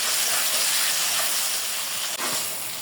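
Ginger-garlic paste with coriander and cumin frying in hot oil for a Bengali mutton curry, a steady loud hiss and sizzle running throughout without pause.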